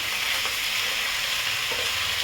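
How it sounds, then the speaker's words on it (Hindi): Chicken pieces fry in oil in a pan with browned onions for a chicken biryani, giving a steady, dense sizzle throughout with no pauses and no voices. "इसमें चिकन मैं डाल रही हूँ। इसे भी मैं भून लेती हूँ,"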